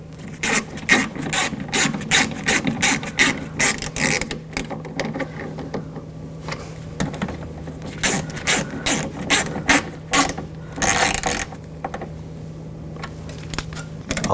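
A hand ratchet tightening window regulator bolts inside the door of a 2000-2006 BMW X5, rapid clicking pawl bursts repeated in short runs with pauses between, close and crisp.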